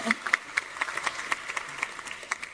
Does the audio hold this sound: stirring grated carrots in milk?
no